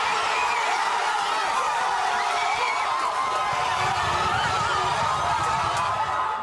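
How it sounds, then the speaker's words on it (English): A packed bar crowd erupts as the Dodgers clinch a 4-1 series win over New York: a loud, dense, unbroken roar of cheering and screaming, with scattered whoops and shouts running throughout. "Just take a look at how the crowd reacted when the Dodgers won."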